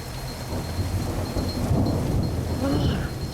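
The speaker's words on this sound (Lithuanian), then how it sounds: "artinasi audra" Thunderstorm outdoors in the countryside, with a steady roar of heavy rain and low rolling thunder rumbling throughout, growing a little louder midway; no one speaks.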